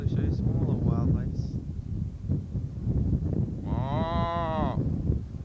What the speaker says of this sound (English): There's a mama cow and her little baby cow, Alex.